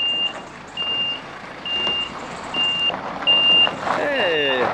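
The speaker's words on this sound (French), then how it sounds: "il y a quand même 3 camions comme ça qui arrivent" Three 6x4 trucks deliver limestone, and a truck's reversing alarm beeps at a steady, evenly spaced rhythm over engine rumble. There is a faint squeal near the end and no talk.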